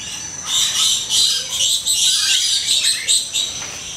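Birds call and chirp continuously inside the Papua aviary at Bali Bird Park, a dense, bright chorus of overlapping high tweets close by with no talking.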